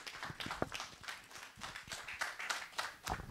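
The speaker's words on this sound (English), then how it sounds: "Let's give him a huge round of applause, ladies and gentlemen." Scattered audience applause at a hackathon grand finale in Bangalore, irregular claps and thumps of moderate density, faint and somewhat distant, with some low-level crowd noise.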